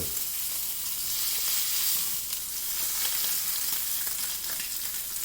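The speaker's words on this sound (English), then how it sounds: "So I'm going to get that fat a little bit crispy, rendered down." Beef sirloin cap fat sizzles and crackles steadily in a hot pan, a dense, even frying hiss that stays close and constant with no talk over it.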